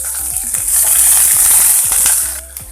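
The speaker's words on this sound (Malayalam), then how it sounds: "കടുക് പൊട്ടിക്കഴിയുമ്പോൾ നമ്മൾ പച്ചമുളകും ഉള്ളിയും കൂടെ ഇട്ട് കൊടുക്കാം." Green chillies and onion sizzling in hot coconut oil with mustard seeds, a loud steady frying hiss with scattered pops and stirring clicks, close up and with no voices.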